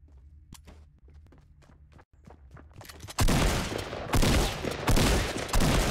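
Shotgun blasts boom in a Fortnite match, a few loud, widely spaced shots after a stretch of quick, light footstep-like taps.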